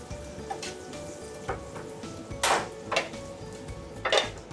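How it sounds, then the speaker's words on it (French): Chicken in a pan being deglazed with Chablis wine, a faint sizzle beneath several sharp clinks and scrapes of utensils against the pan, close and irregular. "On va déglacer ça avec un petit peu de chablis"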